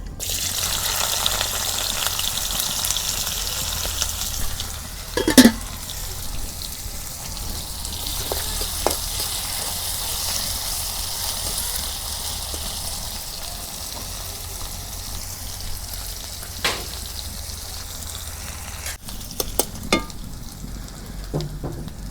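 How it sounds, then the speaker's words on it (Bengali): Chopped onions fry in hot oil for a chicken curry, giving a loud, steady, close sizzle that runs unbroken throughout, with a few faint clinks of a utensil against the pan. "গরম হচ্ছে, এখন পেঁয়াজ কুচি দিয়ে দিই।"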